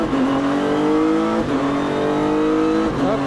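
A Renault RS01 race car accelerates hard on a track day, its engine loud and close, rising in pitch through the gears with brief drops at each shift.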